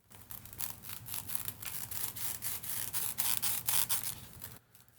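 A graded comic book slab, a hard plastic case, squeaks and rubs in the hands as it is unpacked, a quick series of close, sharp squeaks ending in near silence.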